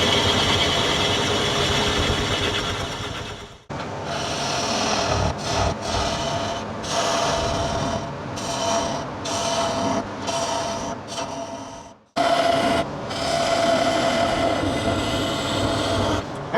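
Bowl gouge cutting a wooden bowl blank on a lathe, a loud, continuous scraping rasp near the mic with brief breaks where the tool lifts off, including a longer pause midway before cutting resumes.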